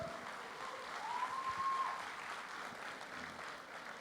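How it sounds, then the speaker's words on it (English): An audience claps for a film team at a stage event for Rajinikanth and Akshay Kumar's 2.0, with steady, moderately distant applause that holds evenly for a few seconds. Low crowd murmur sits underneath. "I think this team requires a huge round of applause from all of you"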